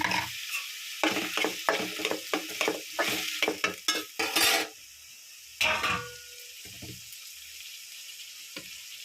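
Egg pieces fry with ginger garlic paste for an omelette curry, a spoon stirring and scraping the pan in quick bursts over a soft sizzle, pausing into quiet before one last stir.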